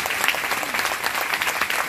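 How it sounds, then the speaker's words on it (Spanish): Church congregation clapping together in praise, a loud, dense and continuous burst of many hands filling the room for about two seconds, with no talking heard. "Dale un aplauso a nuestro Dios por esa promesa."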